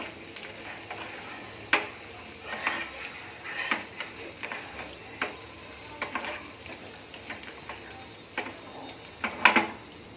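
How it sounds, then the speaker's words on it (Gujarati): Cashews fry in hot fat in a pan while making katlu pak, giving a soft, steady sizzle broken by light ticks and occasional clinks of a utensil against the pan, with no talk. "કાજુને આપણે એમાં તરી લેવાના છે"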